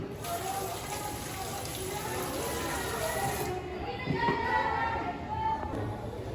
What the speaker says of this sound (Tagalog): At lagyan ito ng kaunting tubig.